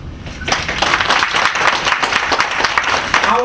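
A library audience breaks into sustained, close applause for colleagues, dense hand clapping that starts after a brief lull and carries steadily to the end.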